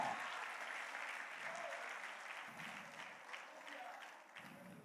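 A church congregation at a large convocation applauds, a steady, dense wash of clapping from a crowd, with voices faintly mixed in.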